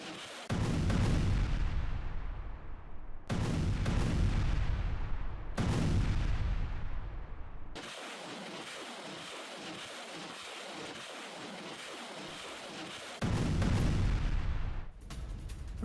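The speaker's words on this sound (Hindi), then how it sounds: "थर्मोबारिक लॉन्चर ने यूक्रेनी ठिकाना नष्ट कर दिया है।" Thermobaric launcher rounds fire at a Ukrainian position on the Zaporizhzhia front near Huliaipole, heavy booming blasts in quick succession followed by a long rumbling roar and a final loud burst, distant and wind-buffeted.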